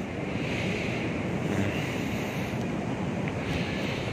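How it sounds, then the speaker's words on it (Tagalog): Sea waves washing onto the shore after rain has stopped, a continuous, loud surf roar with heavy wind buffeting the microphone throughout, no voices. "Kaya nandito na kami sa may dagat."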